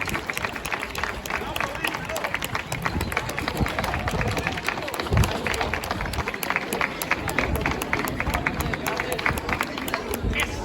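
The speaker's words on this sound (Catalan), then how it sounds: "Un fort aplaudiment per a ells en homenatge a la seva participació durant tants" At a Sant Jordi 2024 school ceremony, an audience applauds the students in tribute, a sustained, close, even burst of many hands clapping together with some crowd murmur underneath.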